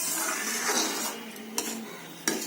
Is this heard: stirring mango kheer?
yes